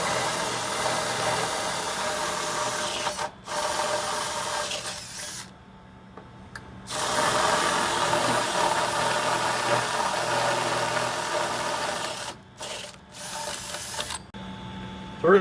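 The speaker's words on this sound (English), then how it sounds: "we'll just start working our way up in drill bit size." Steady mechanical whirring of a power drill running for long stretches, broken by a few short pauses, with a low engine-like hum underneath.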